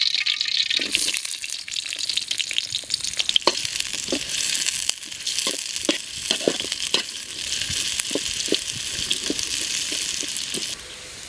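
Onions fry in oil in a kadai for rabbit chukka, a steady close sizzle with repeated sharp scraping and stirring knocks of a ladle against the pan, no voices.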